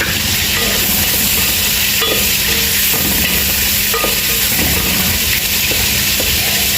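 Tomato paste sizzling in a frying pan with spices for fish kabsa, a steady loud frying hiss with soft scraping stir strokes beneath it, close and continuous throughout.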